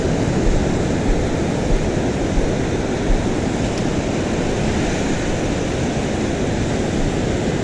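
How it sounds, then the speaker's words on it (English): Beach surf rolls in as a constant broad wash of ocean noise, loud and unbroken, with no distinct individual breakers and no voices. "I know there's a wave coming."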